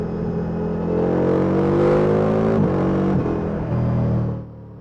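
Ducati Multistrada V4S motorcycle engine revving hard above 4,000 RPM, a loud, close, steady roar with rising harmonic pitch sweeps and gear-change dips before it fades out.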